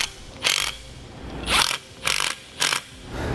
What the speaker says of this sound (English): Then tighten those down with a 7/32 Allen head key.